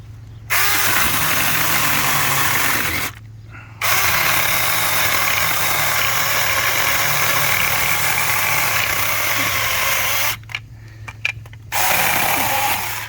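A battery-powered saw cuts through tree branches in loud, sustained bursts, stopping briefly twice before starting again, with no talking.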